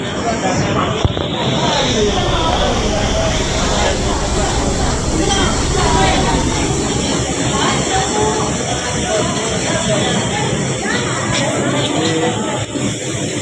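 A passenger train waits at a station in torrential rain, with a dense, steady wash of rain and rumble, station bustle and crowd murmur throughout, and people talking nearby.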